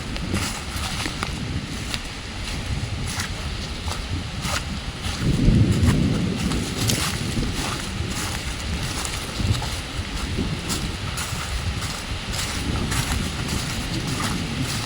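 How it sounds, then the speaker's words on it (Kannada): Heavy rain and gusting wind roar steadily through the trees over a riverside fishing spot, a dense, unbroken downpour lasting throughout. "ಓ, ಮಳೆ ಜೋರಾಯಿತು, ಮಳೆ ಸ್ಟಾರ್ಟ್ ಆಯಿತು."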